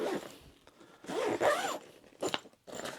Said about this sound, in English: So you've got like a suitcase area there, which zips up.